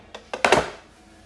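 Plastic Funko Pop protector case being pressed and snapped shut, giving a few quick, close clicks and a louder final snap, with no one speaking over it.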